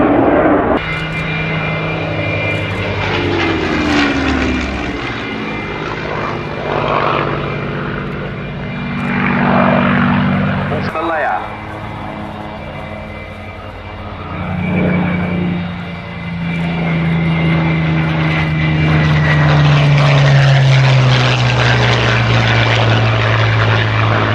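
Loud engines of a twin-engine aircraft, each developing about 11,000 pounds of thrust, roar steadily as it passes, the drone swelling and dipping with a slowly falling pitch near the end.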